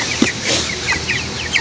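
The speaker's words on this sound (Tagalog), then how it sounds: "Alaga kong mga manok." Three-week-old chickens clucking close by, short soft clucks and chirps repeating irregularly over a low steady background hum.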